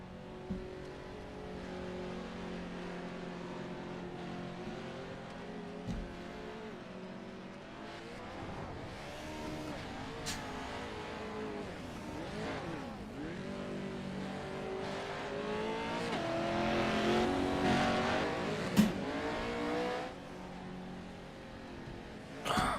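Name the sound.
race cars driving on a short track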